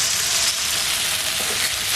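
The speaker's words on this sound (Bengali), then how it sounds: "পেঁয়াজ ভাজি হয়ে গেছে, এবার অল্প একটু জল দিয়ে দিচ্ছি" A little water poured onto fried onions in a hot pan, answered by a loud, dense, continuous hiss and sizzle that stays strong and even from start to finish.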